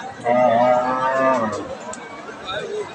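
A Friesian cow gives one long, loud moo up close at a cattle market, followed by quieter background murmurs.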